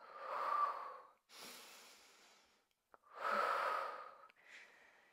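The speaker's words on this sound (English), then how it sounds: "Deeper breathing as maybe the muscles are starting to experience more work now." Deep, heavy breaths drawn in and pushed out during a standing Pilates leg workout, forming several long, loud inhale and exhale bursts with short pauses between them, close to the microphone and with no talking.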